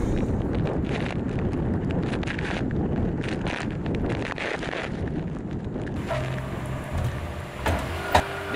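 The ship Ocean Warrior tears along at over 30 knots, with a steady, loud roar of wind and rushing water. A few brief knocks come near the end.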